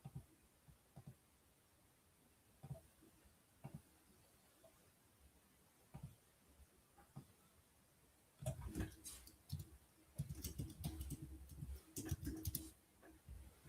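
Computer keyboard typing at a desk, quiet scattered clicks at first, then a denser burst of rapid keystrokes partway through, fairly close and with no voice over it.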